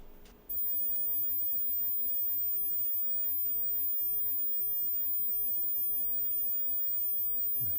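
A steady, piercing 15,000 hertz test tone plays from a Studer A80 VU MKII tape machine. It starts abruptly after a brief quiet moment and holds constant and unbroken, with no voices.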